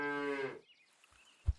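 A single drawn-out cow moo from the video game Super Auto Pets, fairly faint, followed by a brief low thump.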